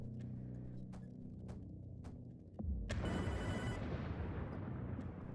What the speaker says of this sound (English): Let's see who's ringing on the phone at this time.